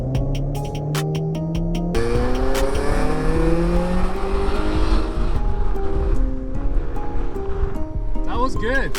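A Honda Civic EH2 driven hard, its engine revving through rising and falling pitches while tires squeal in bursts, loud and close, with people talking over it.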